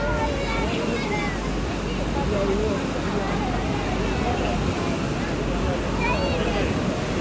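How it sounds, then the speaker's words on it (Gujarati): Sea waves at the Dwarka shore near the Bhadkeshwar Mahadev temple crash and splash in a constant, loud, rushing roar, with wind buffeting the microphone and voices talking over it. "પાણી ઉડી રહ્યું છે અહીંયા"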